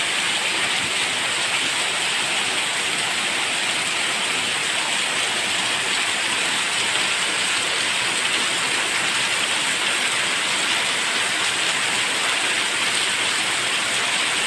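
Heavy rain pours down in a steady, dense roar with no letup, close and loud throughout, with no voices.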